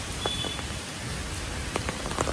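Heavy monsoon rain pours steadily in Mumbai on a red-alert day, a dense, even hiss of drops with a few sharper patters and no voices.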